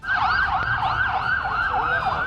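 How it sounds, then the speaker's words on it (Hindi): Wailing sirens from fire engines rise and fall in a steady, repeating cycle as they race to a fire at the port in Beirut. The sound is loud and close, with some faint traffic noise underneath. "पिछले हादसे से सबक लेते हुए तुरंत वहां दमकल की कई गाड़ियां भेजी गयी।"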